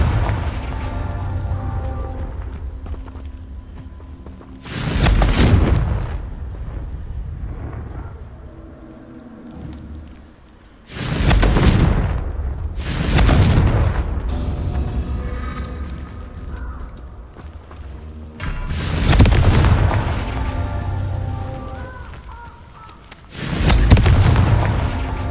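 Fire-spell explosions in the Hogwarts Legacy video game, several loud booming blasts at irregular intervals, each with a sharp burst and a rumbling tail over quieter ambient sound.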